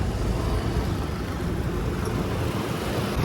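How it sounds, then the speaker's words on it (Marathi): Steady road traffic on a congested route near the Atal Setu bridge on the way to Uran, heard as a dense, continuous broadband rumble and whoosh with no breaks and no voices. "कसली बेकार ट्रॅफिक."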